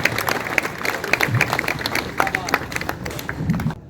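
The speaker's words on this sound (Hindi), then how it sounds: "मैं चाहता हूं पूरा सदन जोरदार तालियों से बुलाए भाई विख्यात मिश्रा" Audience applause at a kavi sammelan poetry gathering in Lucknow, welcoming the poet Vikhyat Mishra to the stage: a crowd's steady clapping with scattered voices mixed in, continuous and fairly loud throughout.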